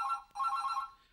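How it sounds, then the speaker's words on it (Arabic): A landline telephone rings with a bright electronic trill, broken by one brief gap, then fades out, loud and close with nothing else around it. "هذا التليفون العادي مو الموبايل"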